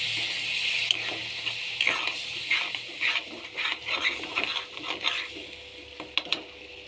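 Spice masala with a little water added being stirred in a pan for a mixed vegetable dish, close rhythmic scraping strokes over a soft sizzle, with a couple of sharp utensil clinks near the end, no talk.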